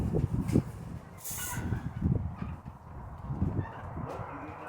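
Chickens and other fowl in a barn, scattered clucks and honking calls repeating close by while scratch feed is thrown out, with no talk.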